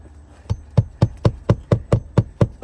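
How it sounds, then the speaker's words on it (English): A hammer drives a nail into a brittle roof shingle, about ten sharp, close, loud blows landing in a steady even rhythm, with no voice. "I'm nailing these straight on the nail strip where the last ones were nailed"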